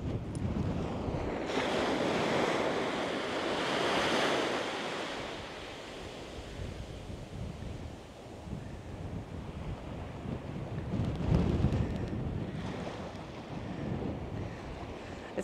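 Surf breaks and washes on the beach at Sandy Cape Recreation Camp in Australia, steady and moderately close, with wind buffeting the microphone and swells building in a few louder surges.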